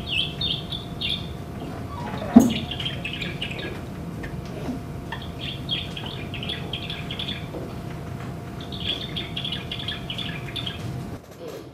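Small songbirds chirp and call in repeated bursts of high twittering, fairly close, with a brief thump partway through and a short spoken phrase.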